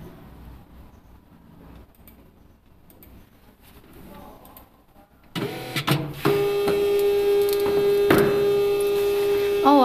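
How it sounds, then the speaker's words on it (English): A direct thermal wristband printer starts up after a quiet, faintly murmuring room, giving a loud steady electronic whine with a constant tone and a couple of sharp clicks as it prints. "let's do some printing now"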